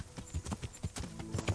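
Horse hooves clip-clopping in Kingdom Come: Deliverance, a quick run of close, rhythmic hoofbeats over a short moment with no voices.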